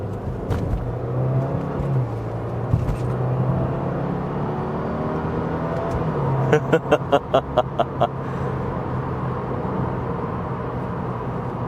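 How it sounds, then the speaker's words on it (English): A 2022-2024 Subaru WRX engine drones steadily as the car accelerates onto a highway in manual mode, with a few sharp rhythmic clicks partway through and no talking. "I think in manual mode, this engine sounds better"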